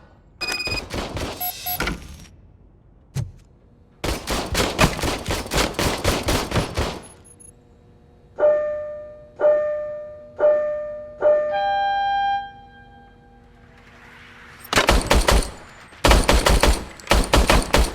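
Several loud, sharp gunshots from RoboCop's service weapon in RoboCop: Rogue City, fired in quick bursts separated by pauses, with ringing electronic tones between volleys.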